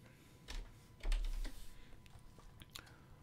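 Keys tapped on a computer keyboard, a few quick soft clicks in a short burst, close and faint, with no talking.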